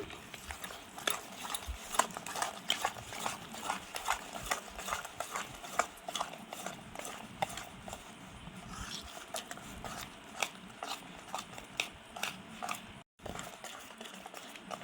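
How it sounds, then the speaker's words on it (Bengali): Ripe jackfruit fritter batter made with cold milk is mixed by hand, giving a steady stream of close, wet squelching and slapping with dense little bursts and one brief pause near the end. "এবার আমি ভালো করে মাখিয়ে নেব"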